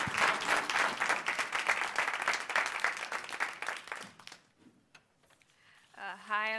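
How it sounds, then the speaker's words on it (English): An audience at a scholarship poetry event claps energetically for a student, the applause dense and loud for several seconds before thinning into scattered claps, followed by a brief voice. "Clap it up for Ms. Zoe Treadwell."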